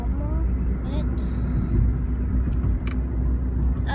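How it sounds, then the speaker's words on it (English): A car speeding along a road, heard from inside as a steady low rumble of engine and road noise throughout, with faint clicks and rattles on top. "Okay, the car is going super speed, by the way."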